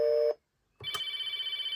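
Electronic phone tones from a 2006 VTech Grow and Go ride-on toy: a steady two-tone beep that cuts off, a pause, then a brief click and a sustained high dial-style tone with a faint pulsing beneath, loud and close.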